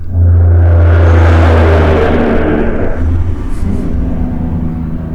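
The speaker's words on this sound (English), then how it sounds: "Coal truck. It is a coal truck." A loud coal truck passes on a highway up on a West Virginia mountain, a heavy engine rumble with a strong low drone that swells early and then eases as it rolls on, steady throughout.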